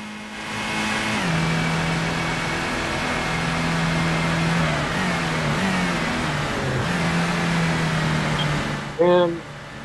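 Toyota Supra engine in the PS1 racing game Gran Turismo, a steady mid-pitched drone that rises and falls with gear changes throughout, loud and continuous, with a brief voice near the end.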